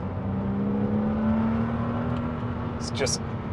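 A Porsche Cayman S with a 3.4 engine runs under way with a steady drone and a whining tone while someone talks over it.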